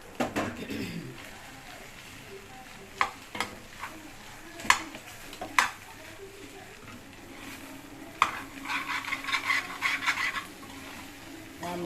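Fried rice being stirred in a pan, with a spatula scraping and knocking against the metal in irregular clicks over a soft sizzle; a voice speaks faintly in the background.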